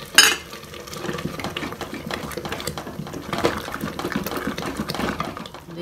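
A spoon scrapes and churns through thick saag in a metal pot, steady continuous stirring up close, with a brief clink at the start.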